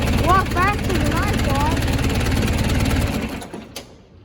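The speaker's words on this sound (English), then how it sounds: "I mean, it's an old tractor, fires up good." An old farm tractor engine fires up and settles into a loud, steady chugging idle, with a person talking briefly over the start before the engine cuts out near the end.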